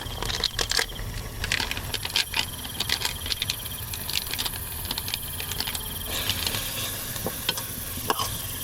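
Fish masala cooks in a pan over a campfire during a night in the forest, giving a steady sizzle with intermittent scraping stirs, and crickets chirp in the background.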